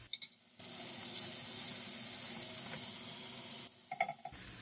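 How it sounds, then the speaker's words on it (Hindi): Chopped tomatoes fry in a pan with salt while an Arabic biryani is being made, giving a steady, close sizzle that rises abruptly and holds for about three seconds before cutting back to quiet clinks. "टमाटर को गलने तक हम इसको भून लेंगे।"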